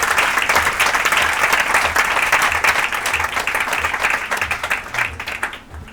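A church congregation applauding for Jesus at a Christmas gathering, dense sustained clapping from many hands that fills the whole stretch and tapers slightly at the end.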